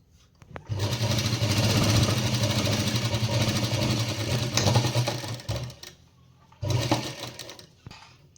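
A sewing machine stitches a kurti hem in a loud, fast continuous run for about five seconds, stops briefly, then runs again in a short burst.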